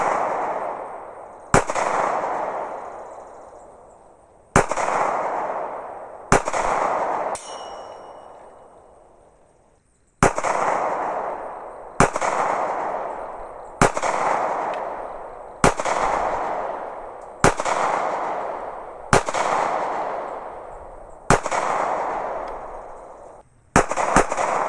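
Gunshots from an SCCY CPX-2 pistol, a cheap concealed-carry handgun, ring out in about eleven loud, sharp reports at uneven intervals with pauses between, each trailing a reverberant decay, with no talking.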